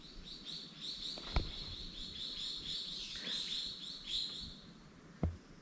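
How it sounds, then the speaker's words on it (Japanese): Several birds chirp and twitter continuously at a moderate distance in a mangrove forest on Iriomote Island, with a few sharp clicks and snaps close by in an otherwise quiet setting. "もう鳥の声しか聞こえないですしね"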